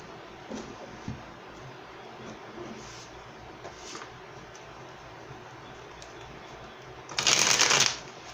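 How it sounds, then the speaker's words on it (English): Tarot cards riffled in one quick, close shuffle lasting under a second near the end, after a quiet stretch of faint handling taps and light clicks. "We're going to pull some clarifying cards for you."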